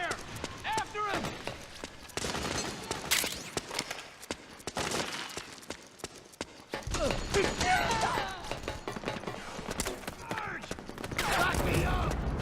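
Metal Gear Solid 4 video game combat features repeated bursts of gunfire and clattering under shouted soldier commands, busy and dense throughout.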